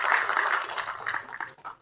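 Applause from an audience at a film audio launch welcoming director-actor K. Bhagyaraj, a brief burst of dense clapping that thins and fades over a couple of seconds.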